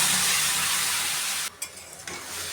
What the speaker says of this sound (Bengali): এখন আমি সিমগুলো দিয়ে দিলাম।